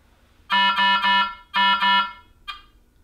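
Speaker test alarm tone from an ultrafiltration machine, a loud, close electronic beeping in two bursts of three and two pulses, then a short fainter chirp, with nothing else underneath.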